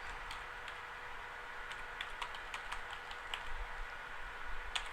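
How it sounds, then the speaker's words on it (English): Computer keyboard keys tapped while working in an Excel spreadsheet, a scattering of light, irregular clicks over a steady background hum, fairly faint and close. "I'm using the left arrow on my keyboard to just tab across."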